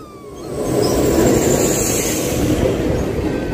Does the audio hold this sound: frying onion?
no